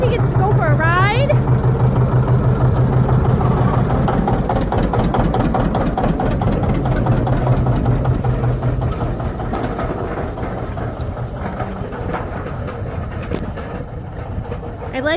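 A John Deere 70 diesel tractor engine runs steadily during field work dragging and cultipacking, a loud continuous low rumble throughout, with voices talking over it.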